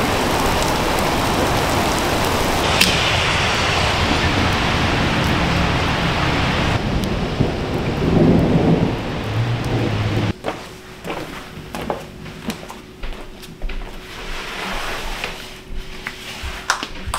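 A thunderstorm in New York City brings heavy, steady rain. Thunder rumbles and cracks partway through, and the downpour then eases into a lighter patter with scattered drops.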